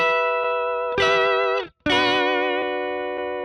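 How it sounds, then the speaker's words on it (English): Electric guitar played through a Neural DSP plugin controlled by a Line 6 Helix with a vibrato effect, a sustained wavering chord that cuts out briefly and then rings again, alone and fairly loud. "Next up is spooky mode, which is just what I call vibrato."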